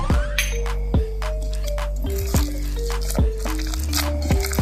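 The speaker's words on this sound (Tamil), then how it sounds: "சுடு தண்ணி ஊற்றி நல்லா அது கரைச்சிட்டு மாவில் ஊற்றி நல்லா மிக்ஸ் பண்ணி எடுத்துக்கலாம்" Wheat bonda batter is stirred with dissolved soda water, giving wet, squelching slaps and sticky squishes in a steady repeated rhythm close up, while a voice talks over it.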